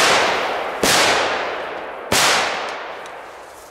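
Two sharp, loud crackling ball firecrackers explode close by, about a second apart, each bang leaving a decaying hiss of crackle, with no talking.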